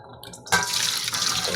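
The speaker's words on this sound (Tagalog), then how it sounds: "Hugasan po muna natin ulit at patuyuin po natin yung tubig bago po natin ihawin" A faucet turns on and water runs into a sink over cooked beef skin being washed, a short splash that settles into a steady close stream.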